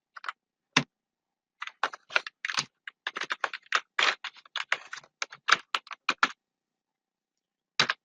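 Bursts of rapid key clicks on a computer keyboard while HTML code is typed, with clusters of taps broken by short pauses, close and crisp, and no voice.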